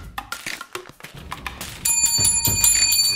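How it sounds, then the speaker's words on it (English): An email reply notification bell rings out clearly after a few light taps and clicks, its bright metallic tone sustaining and ringing on, close and fairly loud in an office setting. "That's the reply bell."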